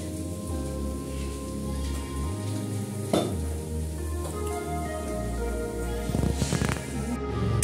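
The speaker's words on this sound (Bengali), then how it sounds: "কড়াইয়ে তেল দিয়ে দিয়েছি, সাদা তেল।" White cooking oil heating in a kadai, crackling and sizzling steadily up close, with occasional louder pops and clatters of a utensil in the pan.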